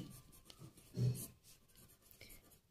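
A marker or chalk writes on a board during a maths lesson, giving a brief, close scratch that peaks about one second in, then soft faint strokes, with no talking.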